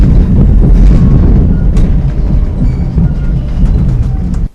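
A train rides along rails with a loud, steady low rumble and faint rattling that holds throughout, then cuts off abruptly at the end; no voices.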